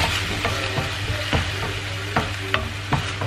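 Meat for a hủ tíu mì khô dish cooks in a pot after water is added. A steady sizzle and bubbling fill the sound, with occasional sharp clinks of stirring, all close and without talk.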